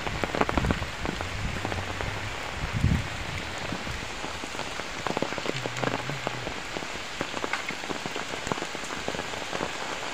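Heavy rain pours steadily on surfaces outdoors in a Bangladeshi village, a dense continuous hiss with scattered drop impacts and occasional low thuds, no voices.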